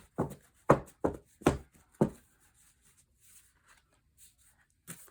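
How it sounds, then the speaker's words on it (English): Homemade index cards written on both sides being shuffled and knocked against a surface: five sharp, close taps in a quick uneven rhythm, then quiet faint rustling and one last tap. "Found that index cards do not shuffle as well."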